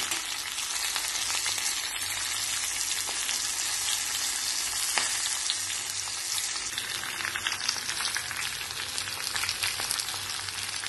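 Chopped mixed vegetables with turmeric powder and salt sautéing in a pan, giving an even, continuous crackling sizzle with occasional light stirring, near and steady, with no one talking.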